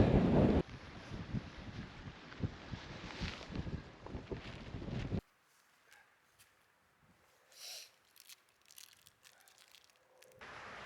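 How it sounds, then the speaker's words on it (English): Strong gale-force wind buffets the microphone on exposed Saddleworth Moor in the Peak District, a loud continuous roar for about five seconds that cuts off abruptly, leaving quieter intermittent gusts and faint rustling. "It's blowing a gale in exposed places"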